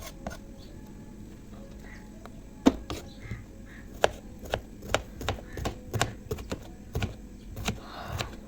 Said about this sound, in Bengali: তো করলা আবার কেটে নিতেছি